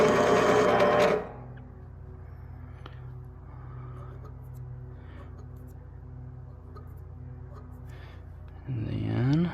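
A Vevor mini lathe spindle runs forward while cutting threads for motorcycle mirrors, a steady close motor whine and hum; louder bursts at the start and end frame a quieter, even running stretch.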